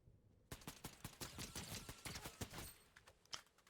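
Rapid gunfire in the video game Fortnite, a quick burst of sharp shots in uneven rhythm lasting about three seconds, faint overall and with no talking.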